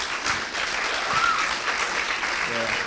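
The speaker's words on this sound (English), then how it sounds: "Can I get a round of applause for everyone," Applause from a gathered audience at a live show, a steady crowd wash of clapping lasting throughout, with some voices mixed in.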